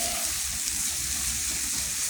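Onion fries in a pan while spinach is being cooked, a soft, steady crackling sizzle heard up close, with slight stirring sounds and no talking.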